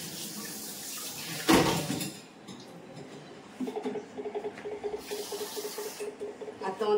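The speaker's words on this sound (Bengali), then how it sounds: "আমি ততক্ষণ চালটা ধুয়ে নিই।" Rice being rinsed under a running kitchen tap, with a steady wash of flowing water and splashing that swells and shifts as the grains are stirred, heard close up with no talking.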